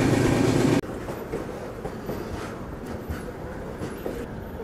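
Arunachal AC Express passenger train hauled by a goods locomotive rolls slowly, a steady rumble of wheels and carriage noise with faint rhythmic clatter after a brief louder burst at the start.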